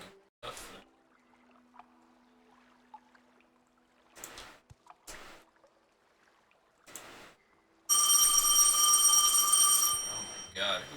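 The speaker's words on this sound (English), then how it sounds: "Very loud phone." Loud electronic telephone ringing in the game Morrowind, a steady sustained ring lasting about three seconds near the end, preceded by brief scattered speech-like bursts.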